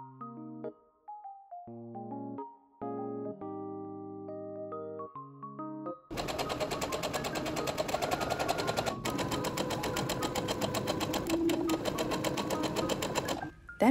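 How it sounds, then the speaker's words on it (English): A sewing machine stitches pockets onto the tiered skirt of a summer Lolita dress, running steadily and fairly loud for about eight seconds after a stretch of soft background music. "I measured down 4 inches before pinning and sewing the pockets in place."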